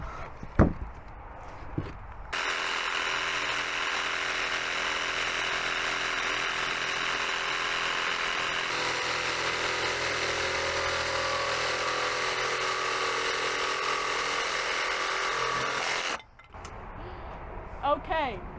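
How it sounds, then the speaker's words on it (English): A cordless jigsaw trims a wooden house number sign, its loud, steady buzzing rasp running unbroken for roughly fourteen seconds between brief handling noises. "I'm going to use the cordless jigsaw to trim it to the proper shape"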